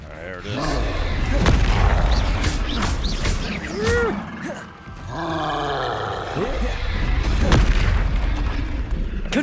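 The Confringo blast spell from Hogwarts Legacy goes off in heavy booming bursts, with a few loud fiery impacts spread across the stretch. Roaring game sounds and a voice talking can be heard in between.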